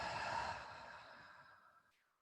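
A long, deep exhale during a morning flexibility and mobility class, a steady breathy sigh close to the mic that fades gradually over about two seconds.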